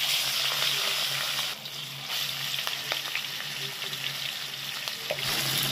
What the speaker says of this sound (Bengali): এবার আমি এক এক করে মাছগুলোকে ছেড়ে দেবো।